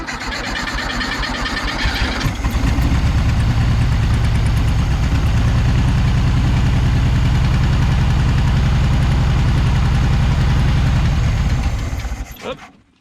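A 1976 Volkswagen Beetle engine, revived with a Ford kit after sitting for years, is cranked and catches, settling into a loud, steady idle that runs for about ten seconds before cutting off.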